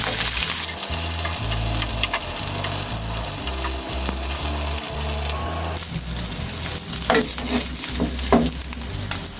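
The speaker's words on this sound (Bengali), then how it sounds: "মাছটাকে সুন্দর করে ভাজবো।" Rohu fish frying in hot oil gives a steady, close sizzle with occasional sharp crackles and stirring sounds, while a low background melody plays throughout.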